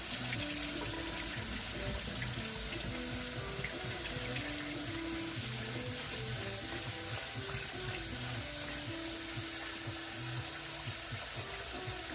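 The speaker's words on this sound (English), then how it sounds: "Gotta give it a few rinse. Take out most of the excess starch." Running tap water streams steadily into a kitchen sink as rice is rinsed to wash off excess starch, a constant splashing wash with soft clinks underneath.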